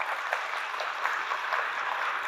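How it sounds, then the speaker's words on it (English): Audience applause for a library maintainer at a Ruby programming conference talk: a soft, even wash of clapping from a seated crowd, steady throughout and heard at a distance. "if I could ask everybody to give a little bit of applause for Steve"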